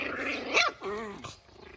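Dogs play-fighting up close, giving a sharp yelp followed by throaty growls and snarls in a brief scuffle.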